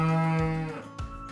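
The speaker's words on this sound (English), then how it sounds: "Yes, a cow." A cow moos once, long and low, then gives a second shorter lowing call, close and clear with no other sounds.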